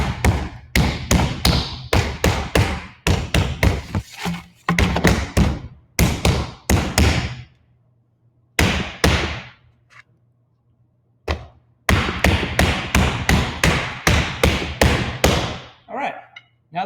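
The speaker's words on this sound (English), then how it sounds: "I want to pound it a little bit wider before I start rolling" A slab of clay is pounded flatter by hand before rolling, in bursts of sharp, close slaps and thuds delivered in quick rhythmic runs separated by short pauses.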